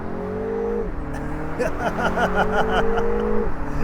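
Four-cylinder engine of a 2025 MINI Cooper convertible accelerating, a steady hum that climbs in pitch, dips at a gear change and rises again, heard from inside the car with faint background noise.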